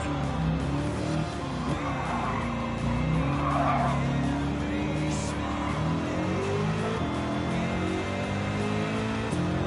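A car in a racing video game skids out of control and wipes out, its engine roaring steadily while tires squeal throughout, loud and continuous for the whole stretch.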